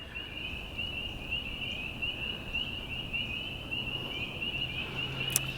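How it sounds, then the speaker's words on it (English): A continuous, shrill chorus of frogs hums steadily in the background over faint outdoor noise on a trail beside a brook in Branson, Missouri, with no one talking. "I've been able to hear them for a while, but now we're really close, so they're so loud"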